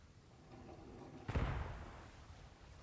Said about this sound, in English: Dad, what is that? Gunfire.